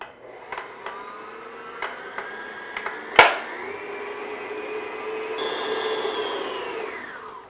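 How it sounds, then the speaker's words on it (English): An electric hand mixer runs steadily on medium speed, beating oatmeal cookie dough in a bowl. A continuous whir holds throughout, with a few light knocks early on and one sharp bang near the middle. "just beat this on medium speed just to mix everything together"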